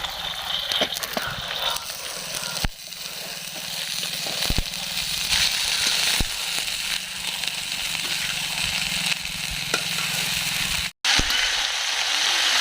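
Chickpeas tipped into a hot pan with cooked kohdauri (vadi) crackle and hiss steadily and close up, with scattered sharp pops, one brief dropout, and no talking.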